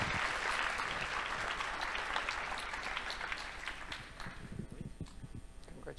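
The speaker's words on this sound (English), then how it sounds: "let's really give them a big round of applause" Applause from a conference audience for award winners at a closing keynote. It starts as full, dense clapping and thins out toward the end into scattered individual claps.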